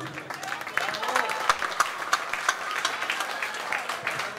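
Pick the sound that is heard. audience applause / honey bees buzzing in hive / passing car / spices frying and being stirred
audience applause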